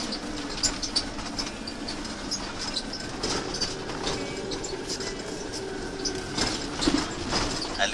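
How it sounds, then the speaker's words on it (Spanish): A tram in Rio de Janeiro passes along the street with rumbling, clattering wheels and rattling, moderately close and steady, amid city noise without talk. "tranvía. Sí, tranvía."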